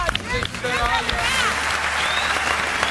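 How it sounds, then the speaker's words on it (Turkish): A studio audience at a Turkish comedy talk show applauds and cheers, loud dense clapping mixed with crowd noise and whoops, with voices briefly audible at the start. "Alkışlar."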